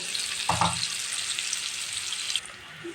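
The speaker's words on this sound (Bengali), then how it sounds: "এই যে পেঁয়াজটা ভাজা হয়ে গেছে" Onions frying in an oiled pan while cooking a koi fish curry, a steady broadband sizzle with a brief louder burst of stirring or spattering near the start, easing slightly toward the end.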